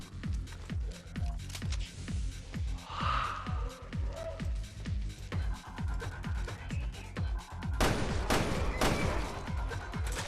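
Repeated shotgun blasts fire in a steady rapid rhythm in Resident Evil Revelations 2 Raid Mode, loud and close, with a denser burst of gunfire near the end.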